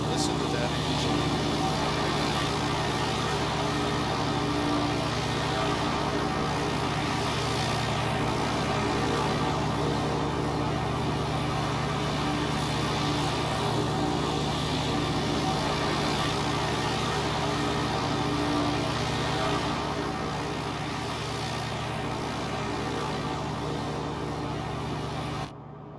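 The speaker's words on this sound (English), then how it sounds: "Listen to that engine." Steady, unbroken drone of a simulated Piper PA28R-201 Arrow III single-engine propeller aircraft in X-Plane 12, a constant, even hum at moderate level throughout the flight with no pauses.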